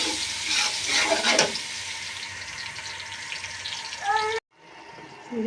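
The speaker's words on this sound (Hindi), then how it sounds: "इसमें हम लहसुन अदरक का पेस्ट डाल देंगे" Garlic paste fries with browned onions in a pan, giving a steady close sizzle with occasional stirring scrapes, then a brief cut to quieter sizzling.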